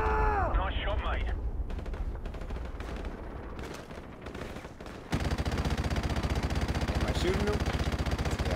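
Gunfire in a Call of Duty Modern Warfare Remastered firefight, with a rapid burst of automatic shots early on, then a louder sustained stretch of rattling fire in the second half, while voices shout over it.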